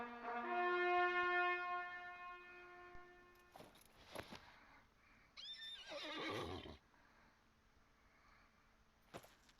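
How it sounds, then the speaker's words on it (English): A war horse in a video game gives a loud whinny with a long, wavering high-pitched call that fades out, followed by snorts and a sharp snort burst. "And this is the war horse."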